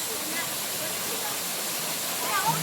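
Sai Falls, a waterfall near Lake Agco, pours as a steady broadband rush of water, continuous and even, with a brief faint sound near the end.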